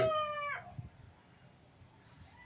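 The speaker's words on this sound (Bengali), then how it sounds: "আরো মুরগি সব বাইরে ঘুরছে" Free-ranging village chickens: a loud, close rooster crow rings out at the start, then fades into a quiet stretch with faint, scattered clucks.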